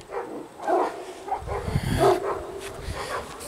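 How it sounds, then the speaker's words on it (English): Dogs bark and yip in a kennel building with big dog chains while some are led out on a walk. Several short, sharp barks and whimpers come from a few meters away over a reverberant indoor background. "Oh, there goes some dogs on a walk here."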